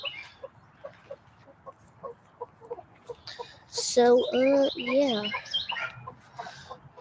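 Buff Orpington hens cluck and call in a backyard along a street, a bright burst of bird vocalizations rising midway over scattered softer clucks, with a person talking briefly nearby.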